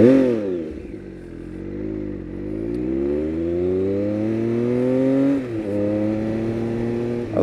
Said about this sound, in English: This bike's got a Black Widow exhaust system on it, and it just sounds fantastic.